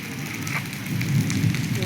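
Heavy rain falls in a steady close hiss that thickens partway through, drops pattering on nearby surfaces with no voices.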